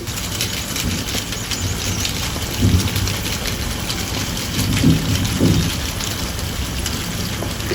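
Steady crackling and sizzling of crispy potato rolls frying in hot oil, a dense hiss with a few louder bubbling swells, no voices.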